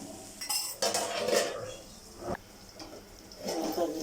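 A utensil scrapes and clinks against a cooking pan while onions are stirred, giving several short, close metallic scrapes at a low level.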